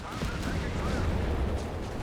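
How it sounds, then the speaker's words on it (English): Dense rattling gunfire from a Panzergrenadier squad's assault rifles in Company of Heroes 3, a continuous broadband crackle of shots and low battle rumble running steadily throughout at moderate volume. "just ripped apart here by the precise assault rifle fire of the Panzergrenadier"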